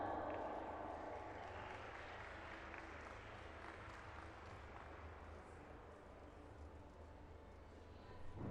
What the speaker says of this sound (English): getting some very, very polite applause here